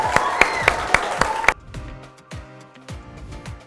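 A school audience at an achievement celebration claps, with a few sharp, loud claps standing out before the sound drops away into quieter scattered noise and speech-like murmur.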